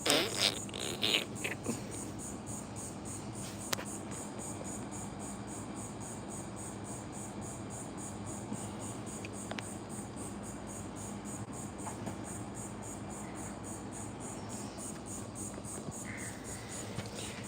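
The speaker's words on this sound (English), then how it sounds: "I hate these cicadas, bruh. These bitches are loud as fuck." Cicadas buzzing loudly on a hot day: a steady, high, pulsing drone that runs throughout without pause over a noisy outdoor background.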